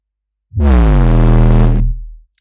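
A single loud, low synth note processed through a bit crusher swells in and fades after about a second and a half, carrying a rough, grainy texture.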